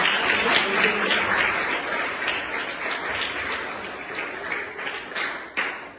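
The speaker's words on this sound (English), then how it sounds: "Let's have another round of applause." Audience applause after a devotional talk at an ISKCON gathering, a dense sustained wash of many hands clapping that swells, then slowly thins toward the end, with a sharp single clap near the close.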